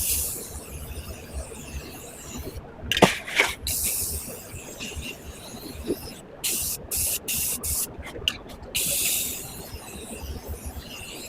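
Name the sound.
spray painting a thrifted item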